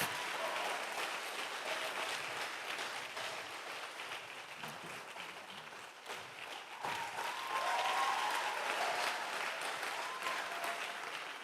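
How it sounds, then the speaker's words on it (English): A conference audience claps steadily and fairly densely for about eleven seconds as a pastor is welcomed to the podium, with a slight lull midway before the clapping swells again. "That clap is not loud enough."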